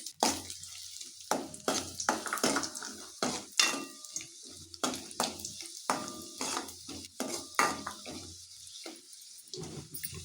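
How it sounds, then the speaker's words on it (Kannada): Raisins, cashews and almonds fry in ghee for a village-style moong dal rice payasam, a steady close sizzle under repeated scraping strokes of a stirring spoon against the pan. "ತುಪ್ಪಕ್ಕೆ ದ್ರಾಕ್ಷಿ ಗೋಡಂಬಿ ಬಾದಾಮ್ ಕಟ್ ಮಾಡಿ ಇಟ್ಕೊಂಡಿದ್ದೀನಲ್ಲ ಹಾಕ್ತಾ ಇದ್ದೀನಿ ಎಣ್ಣೆಲಿ ಫ್ರೈ ಮಾಡ್ತಾ ಇದ್ದೀನಿ"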